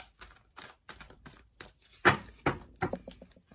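A tarot deck is shuffled by hand, giving a quiet run of crisp, irregular card slaps and riffles that grow louder toward the end, heard close with no voices.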